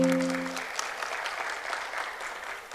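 An audience at an accountants' conference in Bahrain bursts into clapping as a short tonal sound fades out, then continues as steady, moderately loud applause from a large crowd.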